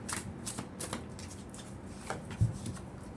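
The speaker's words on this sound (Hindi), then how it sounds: "पहले मैं कार्ड्स निकाल लूं।" Tarot cards are shuffled and drawn by hand, producing a series of quick, close riffling and flicking bursts in an irregular rhythm, with one slightly louder slap near the end and no speech.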